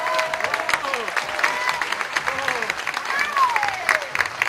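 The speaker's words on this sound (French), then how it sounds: "je vous demande d'applaudir encore, s'il vous plaît" An outdoor crowd at a horse festival near Toulouse applauds steadily after a riding demonstration, with a voice talking over the clapping throughout.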